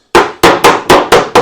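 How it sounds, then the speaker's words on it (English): Six sharp, loud hammer blows in quick succession knock wooden kitchen bookshelf-style cabinet parts together, each strike ringing briefly before the next. "This part might hammer together a lot easier."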